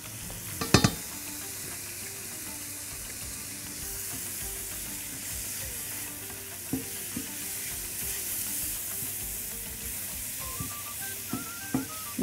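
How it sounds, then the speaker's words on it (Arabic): Onions fry in a pan with spices, a constant soft sizzle close by, with light scrapes and taps from a spoon stirring, and a sharper clatter near the start. "البصل لما بيتقلب بالتوابل كده بيبقى ليه طعم مختلف"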